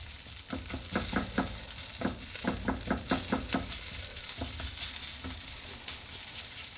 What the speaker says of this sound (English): I'm going to brown these up on both sides, but you cannot beat this for a hash brown